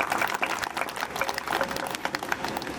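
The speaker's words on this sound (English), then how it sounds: "Please, a big round of applause to our students." An audience at a school investiture ceremony applauds steadily, a dense patter of many hands clapping at moderate volume with no pause.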